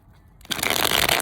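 After a faint moment, a quick riffle of tarot cards being shuffled rattles out, crisp and close, lasting under a second.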